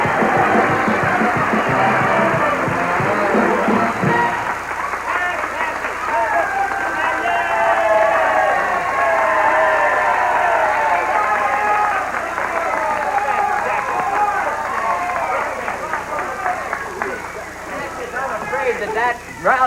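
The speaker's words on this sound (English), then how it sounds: "That rousing applause has made us run out of time." Studio audience applause on the TV talent contest The Gong Show, a sustained loud wash of clapping and crowd noise that carries steadily to the end without a break.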